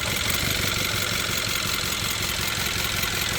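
The 1.6-litre turbo engine of a 2017 Hyundai Tucson runs with the cylinder 3 ignition coil unplugged, giving a loud, continuous, rough, uneven idle with a faint pulsing vibration.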